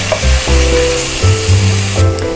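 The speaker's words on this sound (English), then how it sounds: "going to cook the onions for about 3 minutes, not on super high, just a medium high" Onions sizzle steadily in a pan over medium-high heat, a loud and continuous frying hiss with a few soft stirring bumps and no talking.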